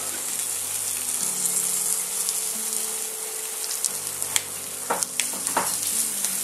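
Onion browning in a pan, in preparation for a rabbit-leg sauce, gives a steady moderate sizzle, with a few sharp clicks and stirring scrapes toward the end and no talking.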